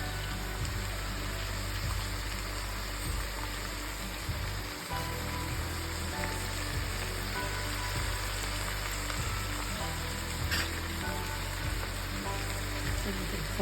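Country chicken pieces frying in hot oil in a pan for a curry, giving a steady, dense sizzle that runs continuously throughout without talk.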